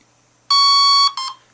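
A Red Brick 30A electronic speed controller being programmed gives off loud, clear electronic tones: one long steady beep followed by a shorter second beep, with no other sound.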